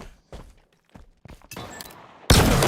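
Shock rifle firing in the video game Halo Infinite: a few soft thumps, then a loud burst of dense, crackling discharge that fills the last moments.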